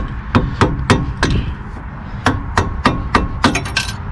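A small hammer knocks a sway bar link out of a Nissan Versa front suspension: about a dozen sharp metallic strikes, close and loud, falling in a quick, slightly uneven rhythm with brief pauses between bursts.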